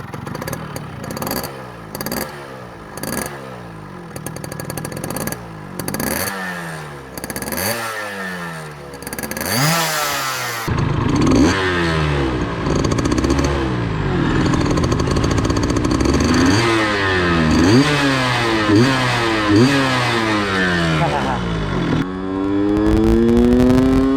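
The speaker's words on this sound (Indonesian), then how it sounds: "kita cobain motornya ya" A second-hand Yamaha F1ZR two-stroke motorcycle in fair condition runs up close. It is revved again and again in rising and falling sweeps, then holds a steadier, louder idle-and-rev stretch. No one speaks.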